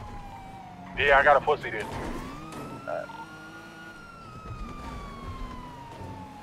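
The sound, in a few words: police car sirens in a video game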